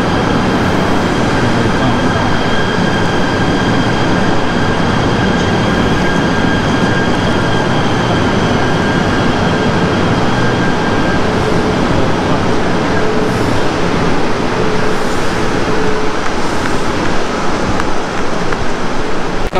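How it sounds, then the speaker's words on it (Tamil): Commuter train pulling into a platform in Malaysia, a loud continuous rumble and rail hiss with steady broadband noise and faint high whines throughout, close by, with some background voices. "ட்ரெயின் வந்துச்சு"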